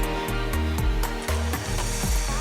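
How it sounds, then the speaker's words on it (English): A heat gun blows steadily at close range while being used to loosen a sticker for an Easter craft, a dense continuous whoosh broken by short scraping or tapping noises over a low hum. "I'm going to use my heat gun to help me get this sticker off"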